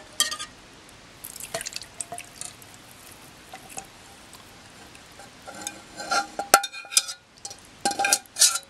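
Chocolate popsicle mixture drips and trickles through a kitchen strainer, with soft wet patters and a few sharper clinks of the strainer near the end, up close with no talking.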